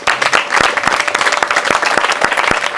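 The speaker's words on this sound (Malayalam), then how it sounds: "അമ്മമാരൊക്കെ ഒന്ന് കൈയടിക്കുന്ന നോക്കട്ടെ ഉഷാറായിട്ട്" An audience of women at a magic show claps steadily and enthusiastically, dense applause with a few distinct sharp claps standing out throughout.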